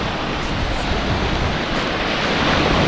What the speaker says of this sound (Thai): นี้มีลมนะครับ ก็เลยมีคลื่น